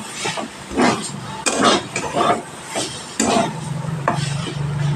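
Taro leaves (kochu shak) stirred in a pan for a vegetarian Bengali dish, giving irregular scraping and shuffling strokes with a faint sizzle underneath, close and moderately loud, no talk.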